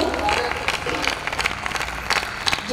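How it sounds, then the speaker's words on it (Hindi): An audience at a Hindi poetry recital claps in a burst of scattered applause, with voices murmuring throughout the crowd. "तो एक बार ताली बजाओ"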